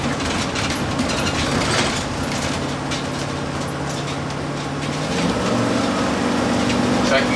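A school bus with a freshly rebuilt 4L80E transmission drives along, its engine a steady low drone that shifts and rises near the end, with people talking over the road noise.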